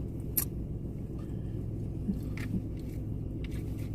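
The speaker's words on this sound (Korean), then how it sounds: "오이 먹어" Crisp bites into fresh cucumber at a close-miked Korean mukbang meal, a few sharp crunches spaced out over a steady low background rumble.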